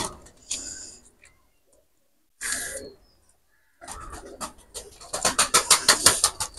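Two leg-ringed running pigeons released by hand: a few brief rustles and bumps, then a close burst of rapid, rhythmic wing flapping that grows louder toward the end.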